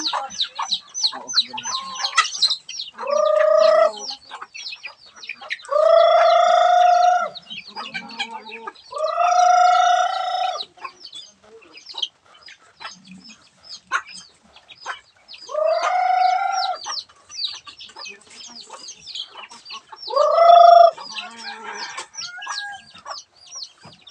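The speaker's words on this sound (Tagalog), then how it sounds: "Manok, hindi aso." Backyard chickens cluck and squawk in scattered bursts while a rooster crows several times across the stretch, each crow a loud, drawn-out call standing out over the busy flock, with a voice speaking briefly at times.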